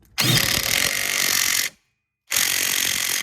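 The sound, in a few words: tightening sway bar link nut on Chevy Impala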